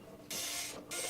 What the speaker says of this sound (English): pull the rest of the screws out